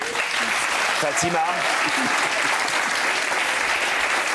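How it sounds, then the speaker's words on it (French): A studio audience on a French television show applauds steadily throughout, a dense and even wash of clapping. A voice speaks briefly over it. "je voudrais qu'on l'applaudisse."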